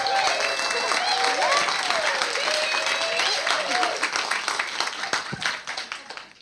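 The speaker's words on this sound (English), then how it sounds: "Let's give her a round of applause." An audience at a book launch gathering applauds steadily for several seconds, a dense wash of clapping that thins out toward the end as voices murmur underneath.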